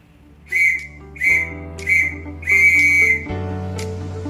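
Whistled Morse code letter V: three short, bright whistle tones in steady succession, then one long held tone. The whistle sounds close and clear over a quiet sustained musical background, with no talking.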